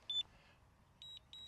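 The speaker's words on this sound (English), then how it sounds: "Hear that beep?" A SkyRover X1 drone controller emits three short, high electronic beeps, one and then a close pair, sounding faint but clear over quiet background hiss as return to home is triggered.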